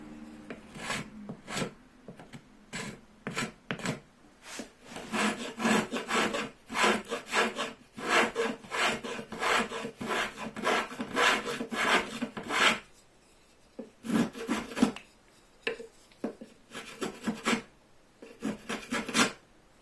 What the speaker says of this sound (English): you need to go in with the card scraper very quickly